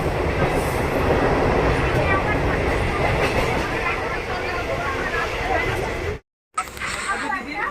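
Shantipur local train in motion, a steady loud rumble of wheels and carriages throughout, with a voice heard over it and a brief dropout near the end.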